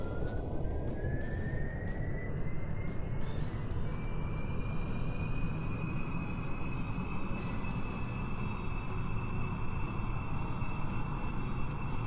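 In the Kerbal Space Program game, SR-71 Blackbird jet engines roar steadily at full power on the takeoff roll, a dense continuous rumble with a thin whine that climbs and then holds.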